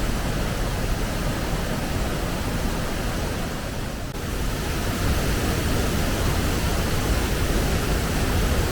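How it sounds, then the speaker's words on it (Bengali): Kanchenjunga Falls in Sikkim roars close by, fed by water from Khecheopalri Lake, a dense, unbroken rush of falling water that fills the whole soundscape at a steady level. "সেটার এটা হচ্ছে কাঞ্চনজঙ্ঘা ফল"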